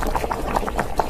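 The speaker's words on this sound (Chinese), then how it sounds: "把我们的黄豆放进来，这个黄豆应该很好吃。 啊。 烫上锅盖，等它炖上50分钟。" Soybeans and pork trotters simmer in a covered pot, a continuous close bubbling burble with rhythmic pops of rising bubbles.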